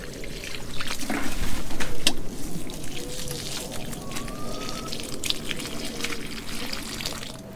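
Water pours and trickles steadily from a watering can onto pepper plants in a garden bed, a continuous close splashing with faint outdoor background.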